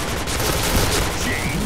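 A fast, dense exchange of rapid gunfire in a video game shootout, continuous crackling fire throughout a short loud stretch with a voice faintly underneath.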